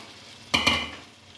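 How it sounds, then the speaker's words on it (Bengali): Water poured into a pan of frying mutton and potol curry sets off a sudden loud hiss that peaks twice in quick succession, then fades over about a second, close and with no talk. "জলটা এর মধ্যে আমি ঢেলে দিচ্ছি"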